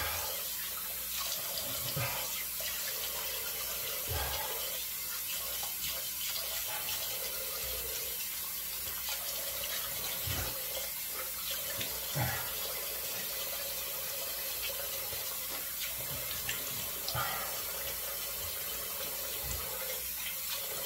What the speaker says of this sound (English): We'll just rinse out the razor really well.